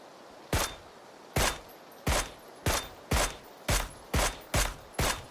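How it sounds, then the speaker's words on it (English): Nine evenly spaced gunshots from PUBG, each a sharp crack with a short echoing tail, fired about once every half second, moderately loud with no talking. "He was getting shot at by someone else."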